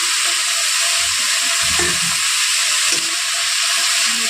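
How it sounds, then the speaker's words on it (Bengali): Chopped onion and garlic sizzle and hiss steadily in hot oil in a pan, a close, continuous frying crackle with faint stirring clatter and no talking. "একটু ভেজে নেব পেঁয়াজ আর রসুনটা"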